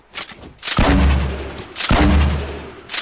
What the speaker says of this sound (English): Use your grenade launchers!